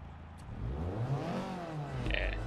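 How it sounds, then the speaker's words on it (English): Stock Lotus Elan engine revving in a racing video game, one rising and falling rev sweep over a low engine drone, fairly quiet, with no talking. "Now listen to the rev."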